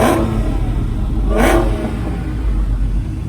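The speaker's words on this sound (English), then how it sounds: "Go ahead, rev it." A Trackhawk's engine rumbles loudly up close and gives one sharp rev burst midway before settling back to a steady idle roar.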